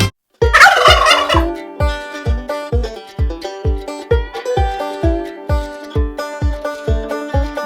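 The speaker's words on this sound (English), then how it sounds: "Turkey." A turkey gobbles loudly and close by, a rapid warbling gobble followed by a long series of evenly spaced, repeated clucking notes that fade gradually, with no voices over it.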